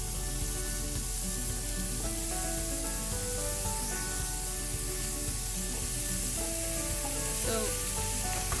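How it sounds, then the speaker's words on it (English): Seasoned beef slider patties sizzle in a hot pan, an even, dense hiss that holds steady throughout at close range with no voices. "while our pan is hot, I'm going to put them seasoned side down first"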